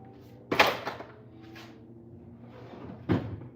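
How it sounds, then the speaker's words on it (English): Car doors on an Audi A5 clunk and thud as they are unlatched and opened, with two distinct close knocks plus lighter rattles in between. "I use the key to open the rest of the doors"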